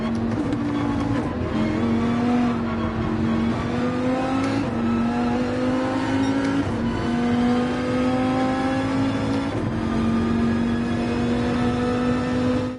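A race car engine in Gran Turismo 7 holds a loud, sustained high-revving whine, dipping briefly at several gear shifts before climbing again, with no talking over it.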